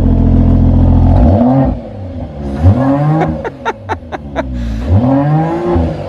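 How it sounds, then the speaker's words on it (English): A Mercedes-AMG car with an AMG Performance exhaust revs hard several times, deep exhaust rising and falling, with a quick burst of short throttle blips in the middle. "That opens up the exhaust, it does have the AMG Performance exhaust"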